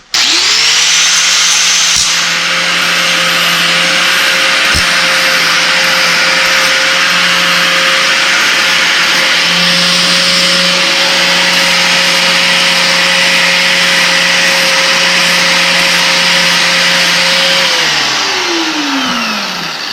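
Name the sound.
flap disc grinder smoothing sharp edges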